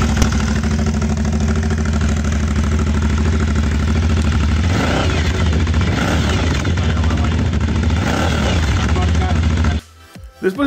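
Motorcycle engine at a dealership running loud and steady, its low rumble overlaid with rapid popping and crackling exhaust, cutting off abruptly near the end.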